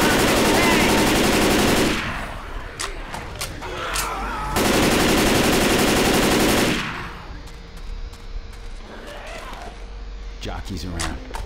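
Automatic gunfire aimed at the Tank in the video game Left 4 Dead, with two long, loud sustained bursts of rapid shots separated by a stretch of voices and scattered game noise.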